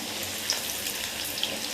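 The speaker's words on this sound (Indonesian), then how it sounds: "Lalu kita akan goreng kentang ini tadi. Masuk ke dalam minyak." Potato pieces fry in hot oil, a close, steady sizzle with small crackling pops spattering over the dense hiss.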